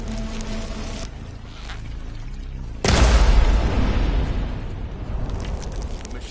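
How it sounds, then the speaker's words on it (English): A plasma blast in the video game Horizon Forbidden West erupts as a sudden loud boom that breaks over a low hum, then decays into a long rumbling roar with crackling debris. "That plasma's going to explode!"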